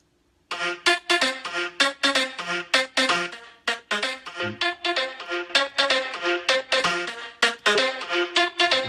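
Nexus PL Voice Pluck 1 vocal pluck synth, dry without its effect, plays a fast rhythmic melody of short bright clipped notes that sounds slightly robotic, loud and alone after a brief silent start.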